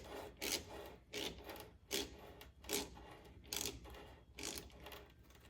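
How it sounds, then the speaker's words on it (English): A ratchet being worked by hand to thread a fitting onto a transmission during a 6L80 to 10L80 swap on a Chevy Suburban Z71, giving a series of about seven rhythmic rasping clicks, close and fairly quiet with no talk. "I'm gonna just use my ratchet and thread it on."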